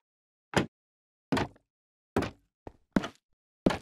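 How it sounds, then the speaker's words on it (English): Minecraft trapdoors open and shut in six sharp, knocking clacks, irregularly spaced, one noticeably softer than the rest, with silence between them. "Opening and closing trapdoors."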